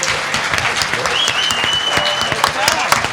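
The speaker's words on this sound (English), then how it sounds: "can we give a round of applause to all of our guests?" Audience at a comic con panel applauding loudly and steadily, with scattered cheers and a few whistles mixed into the clapping throughout.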